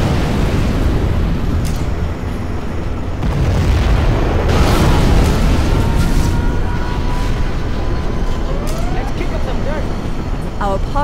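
Heavy, continuous rumbling missile blasts from a Scud Storm in Command & Conquer Generals Zero Hour fill the scene, loud and dense, with a few sharp electronic blips and a voice briefly audible underneath.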